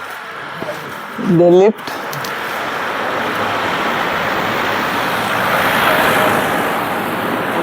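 A vehicle approaches along a road, its rolling traffic noise building to a steady broad roar over several seconds after a brief spoken word.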